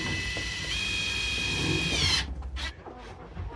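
A power drill drives screws while a kennel heater is mounted in a chicken coop, whirring steadily up close for about two seconds before stopping, followed by faint handling sounds.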